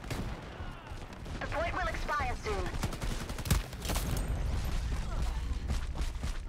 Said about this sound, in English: Okay, I'm shooting my own teammate.